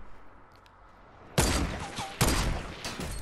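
Semi-auto sniper rifle shots in Fortnite crack out loud and close, two heavy booming reports about a second apart, each trailing into a long echoing rumble, and a third shot begins at the end.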